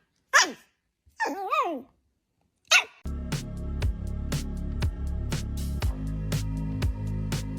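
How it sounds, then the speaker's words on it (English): A dog gives a few separate short barks and yelps in the first three seconds, loud and close, among funny animal moments, then steady music with sharp beats takes over. "Bark."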